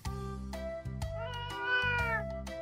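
A cat meows repeatedly in a drawn-out, tonal cry, close and clear, with rising and falling pitch over a low steady background hum.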